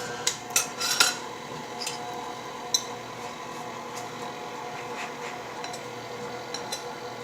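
Flour, baking soda and salt are stirred in a bowl for cookie dough, a few sharp utensil clinks against the bowl early on, then soft, faint scraping and tapping.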